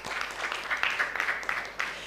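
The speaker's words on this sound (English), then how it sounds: "Let's give a round of applause for Akin Alabi." Steady applause from an audience at a dance competition grand finale, a dense crackle of clapping that holds level throughout with no voices on top.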